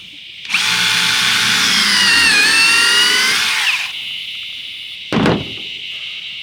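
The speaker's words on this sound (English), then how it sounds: "let's get back to putting holes in our fiberglass" A power drill bores holes through fiberglass fence posts, a loud high whine lasting about three seconds that rises slightly and then winds down, followed by a short second burst after a pause.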